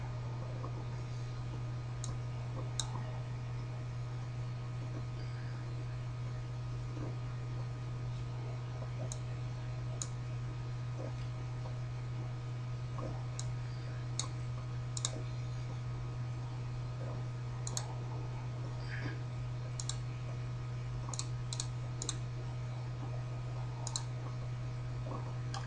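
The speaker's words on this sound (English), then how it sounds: "So now, just typing in this equation here that you see," Sparse, faint keystrokes on a computer keyboard as someone types an equation, with irregular clicks spread across a long quiet stretch over a steady low electrical hum.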